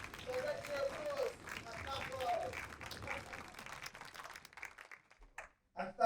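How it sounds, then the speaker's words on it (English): Audience applause fills a theatre at Brighton Festival, dense and even at first, then thinning out and stopping near the end, with a few voices over it. "So let's hear applause"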